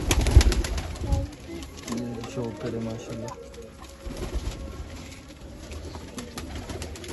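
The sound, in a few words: pigeons cooing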